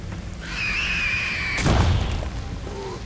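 A bomb explodes in the video game Mass Effect 2, with a sudden booming blast that follows a steady whistling tone and then rumbles briefly before fading.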